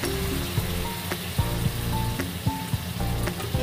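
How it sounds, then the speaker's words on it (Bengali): Boiled chickpeas added to spices frying in oil: a steady, close sizzle and hiss with occasional soft pops and clicks, no voices. "এবার এতে আমি সেদ্ধ করা ছোলাগুলো দিয়ে দেবো।"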